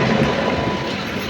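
A train at Madurai railway station, bound for Rameswaram, gives a loud, dense rumbling roar that fills a brief moment close at hand, with no voices.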